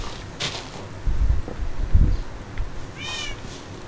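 Cats meowing in the Minecraft video game, a few short separate meows, with a clearer one near the end amid light low rumbles.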